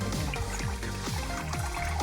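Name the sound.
water circulating in a toolbox sluice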